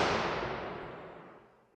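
A convolution reverb impulse response sample in FL Studio plays as a single diffuse wash of noise that starts at full level and decays smoothly to silence over nearly two seconds, with the highs fading first.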